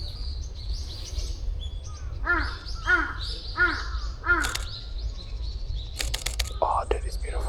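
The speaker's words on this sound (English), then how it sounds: "I can hear more birds here." Crows cawing in Shakujii Park, Japan, a series of four harsh repeated calls in the mid-distance, with smaller birds chirping and twittering throughout over low outdoor rumble.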